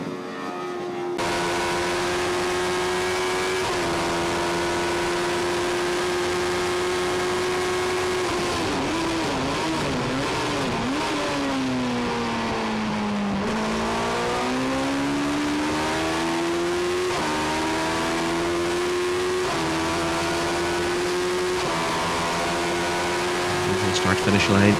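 Race cars in the NI Sevens Challenge lapping Kirkistown circuit, a loud sustained engine drone that rises and falls in pitch as the cars pass, with a commentator talking over it throughout.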